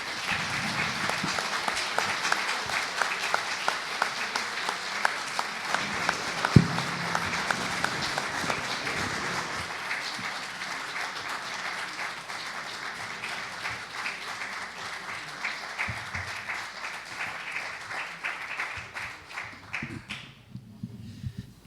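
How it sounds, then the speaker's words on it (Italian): A lecture audience applauds at the close of a Venetian history talk, sustained dense clapping from a sizeable crowd lasting about twenty seconds before tapering off abruptly at the end. "credo che questo applauso sia il miglior ringraziamento al professor Pezzolo per questa lezione"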